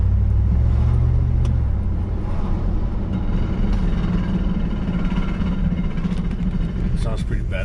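Noisy, worn 10-bolt differential on a Chevrolet Silverado rumbles loudly from underneath while driving, a continuous low drone under road noise, with brief speech in the cab.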